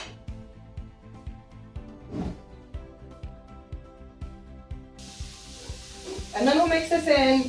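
Lean ground beef browns in a pan with a steady, close sizzle broken by scraping stirs, the frying swelling louder and hissier near the end over a faint musical background.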